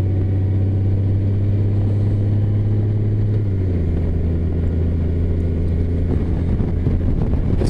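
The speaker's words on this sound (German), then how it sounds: "Das Motorrad arbeitet richtig mit dem Drehmoment." Steady low engine drone of a Honda Gold Wing touring motorcycle under load, the pitch dropping once midway as it shifts, with wind rushing over the microphone.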